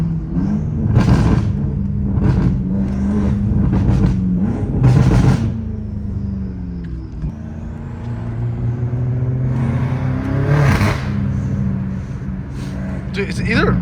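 A straight-piped BMW M5 Competition rumbles loudly with deep exhaust roar and surges of revving, swelling and easing over several seconds while people talk over it.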